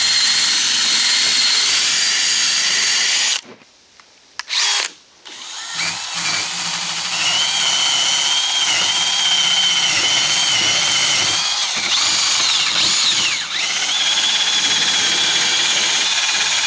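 A power tool scratches and grinds through layers of paint with a loud, continuous, harsh whirring that cuts out in a couple of short pauses early on, then runs steadily again.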